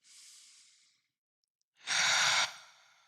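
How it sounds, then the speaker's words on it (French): A deep, forceful exhale during a children's circus-themed yoga breathing exercise, a soft breath first, then a strong rushing outbreath after a short silence, close and clear. "Expirez en vidant tout l'air."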